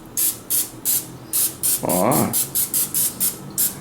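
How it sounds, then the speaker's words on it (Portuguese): Vegetable oil cooking spray hisses onto a surface for pancake making in about a dozen short, evenly spaced bursts, close and clear, with a brief spoken exclamation in the middle. "spray the surface with vegetable oil spray"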